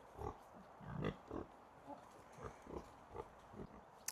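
Pigs in a dusty pen on a smallholding grunt and snuffle close by in short, irregular bursts, several low grunts spaced across a quiet background.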